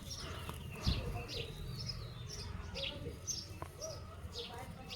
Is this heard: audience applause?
no